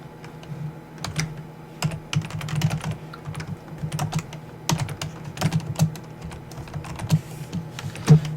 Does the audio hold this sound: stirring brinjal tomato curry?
no